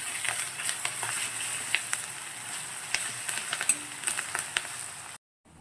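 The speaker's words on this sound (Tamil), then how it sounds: "அதையும் வெங்காயத்து கூட சேர்த்து நல்லா வதக்கிடுங்க." Onions sizzling with ginger garlic paste in a pan for veg kurma, a continuous crackling fry with scattered pops and stirring scrapes, close up, ending abruptly in silence.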